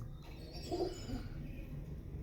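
Old-breed pigeons at a breeder's loft give soft, low cooing against a steady background hum, with one fuller coo standing out midway through the short stretch.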